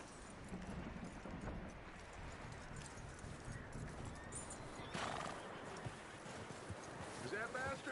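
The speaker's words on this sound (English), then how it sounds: "That looks like a decent horse." A horse neighs and its hooves clip-clop in Red Dead Redemption 2, set against steady outdoor ambience with a voice talking over it.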